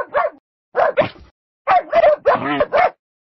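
A cartoon dog barks in several short bursts, a few alone and then a quicker cluster of yips, close and clear with no talk over them.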